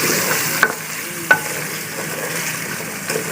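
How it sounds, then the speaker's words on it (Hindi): Chicken frying and being stirred in a pan for nihari, a steady gentle sizzle with two sharp spatula scrapes against the pan. "अब इसको अच्छी तरह भूनना है तो चिकन हमारा गल जाए"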